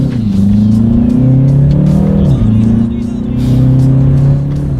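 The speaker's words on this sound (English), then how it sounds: "let's do that paddle shifter test here" A 2019 BMW 330i engine revs loudly and steadily from inside the car, its pitch climbing and dropping sharply with each quick paddle-shifter gear change, holding a continuous throaty drone throughout.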